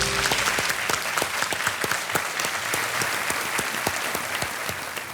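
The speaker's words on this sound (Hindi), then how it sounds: "जितनी जनता थी जब सही उत्तर हो गया सबने बहुत जोर से ताली बजाई" A studio audience at the KBC quiz show claps loudly for a correct answer, dense continuous applause of many hands, close and sustained without a break.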